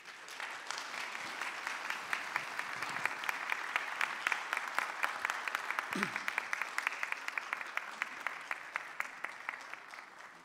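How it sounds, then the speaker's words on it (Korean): A conference audience at a church event applauds steadily to welcome a lawyer to the stage, the dense clapping sounding somewhat distant and even throughout, with a brief voice partway through. "우리 환영의 박수 하시면 좋겠습니다"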